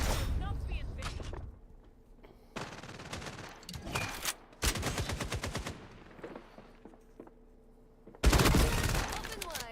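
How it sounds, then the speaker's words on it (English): Video game SMG gunfire, several loud rapid automatic bursts separated by short gaps, with quieter shots in between. "That was an SMG?"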